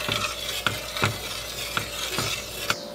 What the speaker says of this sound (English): Now you're gonna heat up the mix until the sugar is all dissolved.